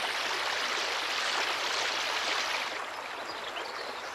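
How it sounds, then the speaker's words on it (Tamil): Steady rushing water of the Pamba River flowing over rocks, a dense broad hiss that continues without pause and eases slightly toward the end. "சலசலக்கும் பம்பையாற்றின் சத்தம்,"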